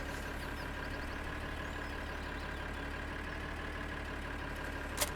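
A large tractor with a trailer attached idles in Farming Simulator 2013, a steady, even engine drone with a constant low hum and no talk.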